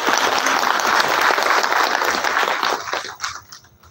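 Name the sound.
applause for the student organizers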